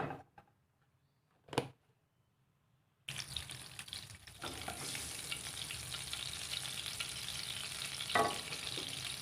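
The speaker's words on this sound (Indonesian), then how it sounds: "Yang pertama akan saya goreng yaitu udangnya" Shrimp crackle and sizzle steadily in oil with a little margarine in a pan, starting abruptly after a quiet moment with a brief clatter, and continuing loud and dense to the end.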